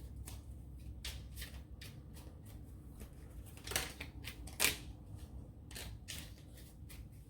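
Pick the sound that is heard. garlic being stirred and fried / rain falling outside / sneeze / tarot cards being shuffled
tarot cards being shuffled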